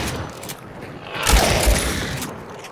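Rapid booming shots from a pump shotgun in a multiplayer video game, a quick cluster of heavy blasts in the middle of the stretch over a steady game background, fairly close with no talk.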